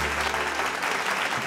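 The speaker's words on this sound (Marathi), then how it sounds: "जोरदार टाळ्यांमध्ये आपण खरं तर" An audience at an awards ceremony applauds in a dense, steady burst of clapping from many hands, loud and close, filling the whole moment.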